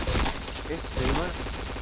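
Gunfire in a shooting video game: two loud bursts of rapid shots about a second apart, with a dense crackling tail between them, close and sharp.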